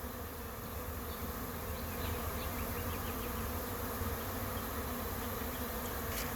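A honeybee swarm drones steadily inside a trap, a dense, continuous buzz of many bees heard up close without pause.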